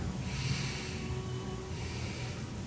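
A deep, steady inhale through the nose, breathy and close, with a continuous airy rush over a low hum.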